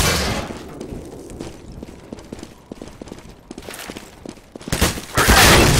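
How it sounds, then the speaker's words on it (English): A flashbang grenade goes off in the video game Counter-Strike: quick rhythmic footsteps and thuds lead into a loud, harsh burst that hangs as a bright, sustained roar at the end. "Throw in the flashbang!"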